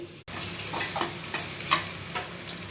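Carrots and rice with salt and chilli powder fry in an oiled pan while a spoon stirs them, giving repeated scraping strokes over a low, continuous sizzle heard up close.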